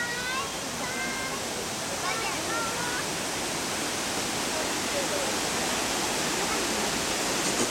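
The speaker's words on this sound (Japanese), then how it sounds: "雨なのか滝の水なのか。 かなり降ってるよ、ほら。" Jōren Falls pours down amid heavy rain in a steady, dense roar of falling water that stays loud and even throughout, with faint bird chirps and a voice briefly heard over it.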